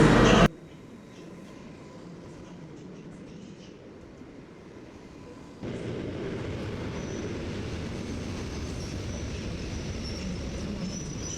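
A Polish passenger train runs between Gdańsk and Kraków, with a steady loud rumble of wheels and car noise that quietens briefly and then swells into a fuller roar for the rest of the run.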